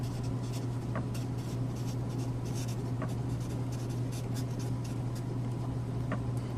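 Pen or marker writing out math equations for a multivariable calculus problem, a steady scratchy stroking texture with a few light taps, close and continuous over a constant low hum, no talking.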